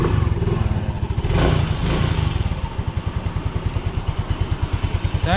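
A repaired Yamaha Mio i 125 scooter engine runs close by, at first rough and busy, then settling into a steady, rhythmic putter with even pulses.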